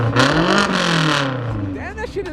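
An SUV engine revs loudly close by, a strong throaty roar that swells and then eases over about two seconds, with people talking over it near the end.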